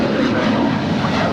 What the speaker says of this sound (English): That's Southwest Airlines Flight 2911 coming in from Baltimore, Maryland. It's 737-800.